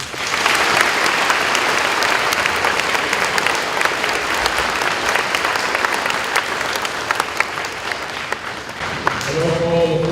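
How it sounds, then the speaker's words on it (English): Sustained applause from an audience at a high school Veterans Day program, a dense, steady clapping that fills the room for several seconds before fading, with a voice and music emerging at the end. "Let's give all our musicians a round of applause."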